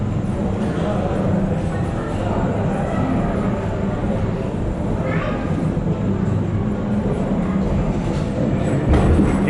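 Atlantica Super Splash ride car rumbling along its rails at Europa-Park, a constant close-up roar and rattle heard from on board, with a rider's voice talking over it.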